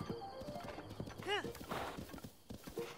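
A horse in the video game Zelda: Breath of the Wild, with rhythmic clip-clop hoofbeats and a sharp whinny partway through, under occasional speech from a player.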